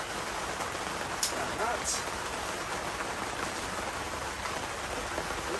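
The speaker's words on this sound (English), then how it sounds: "What a state this rain is." Steady rain drumming on a polytunnel during a thunderstorm, a dense continuous hiss of drops on plastic with a few sharper taps, while a person speaks briefly over it.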